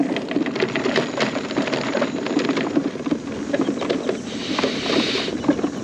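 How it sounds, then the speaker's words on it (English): Loose gear on a scooter rattles and clatters nonstop over a rough campground road at Dana Peak Park, a dense, jittery buzz of vibrating parts mixed with engine and wind noise. "Hear all the stuff rattling on the scooter."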